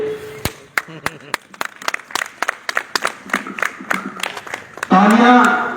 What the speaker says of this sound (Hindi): तालियों की कमी रहती है।